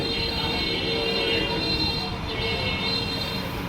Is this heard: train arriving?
yes